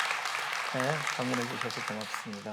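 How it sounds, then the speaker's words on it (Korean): A church congregation applauds at a Sunday worship service, a broad patter of clapping running under a voice speaking over it throughout. "우리 그냥 박수만 한번 쳐드리십시다"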